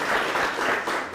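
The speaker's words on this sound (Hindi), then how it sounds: "तो मैं चाहूंगा एक बार जोरदार तालियां बजाकर आप स्वागत करें हमारे आज के जो विशेषज्ञ हैं यहाँ पर" An audience at a Kisan farmers' forum gathering in a Fatehabad village applauds to welcome experts, dense continuous clapping close and loud throughout the short burst.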